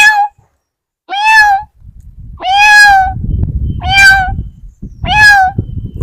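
A voice imitates a cat meowing, giving five distinct drawn-out meows spaced about a second apart, loud and close, with rustling handling noise between the later calls.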